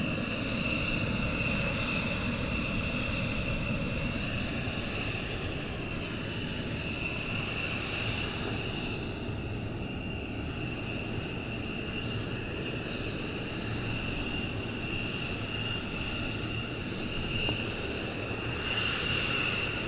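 A military jet taxiing on the airfield at RAF Lakenheath during a morning launch makes a steady, loud whine and roar that holds for the whole stretch without a break, the engine tone sustained and unchanging.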